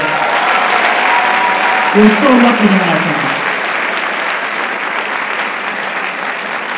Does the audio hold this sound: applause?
yes